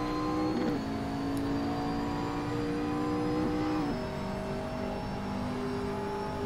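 A McLaren race car in a racing simulator on the Nordschleife, its engine holding a steady high whine, rising and dropping pitch through gear changes, heard alone and fairly faint.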